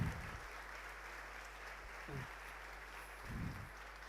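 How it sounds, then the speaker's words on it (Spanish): Quiet applause from a small meetup audience at an Android developers' talk in Buenos Aires, honoring the event organizer, with a low steady hum underneath and a few louder bumps. "quiero que le demos un fuerte aplauso a él"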